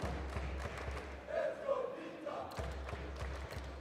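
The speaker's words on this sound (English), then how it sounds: "Vitality fans still cheering their team on, hoping for a return" Vitality supporters cheering at a CS:GO StarLadder Major quarter-final on Dust2, a dull crowd roar that swells briefly in the middle and settles back into a steady background hum.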